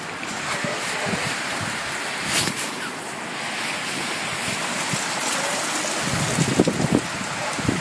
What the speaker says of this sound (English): you see all the rain?